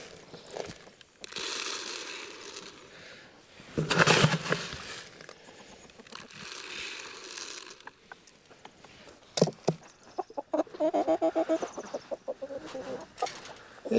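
Backyard homestead chickens cluck and squawk in bursts at feeding time, close by, with scattered pecking and patter between the calls.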